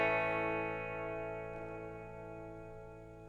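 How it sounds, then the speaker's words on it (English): A sustained electric guitar chord rings out through an amplifier, washed in heavy reverb and slowly decaying with a long, shimmering tail. "Let's have a lot of reverb."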